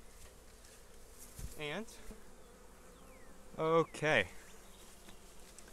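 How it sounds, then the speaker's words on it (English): Honeybees from a package being installed into a hive hum in a low, continuous drone, with a man's brief spoken remarks cutting in over the buzzing. "So, now there is a ton of bees down here."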